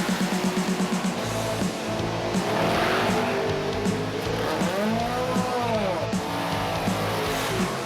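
Drag racing cars at a no-bracket strip rev and launch with loud engine roar and rising, swooping engine tones, mixed with tire noise and crowd-level background.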